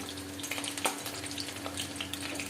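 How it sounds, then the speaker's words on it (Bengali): Chicken pieces deep frying until crisp in hot oil for chilli chicken, a steady close sizzle and bubbling crackle with scattered pops and no talk. "দেখুন এইভাবে কড়া কড়া করে ভেজে আপনারা এটাকে চিকেন পাকোড়া হিসেবেও সার্ভ করতে পারেন"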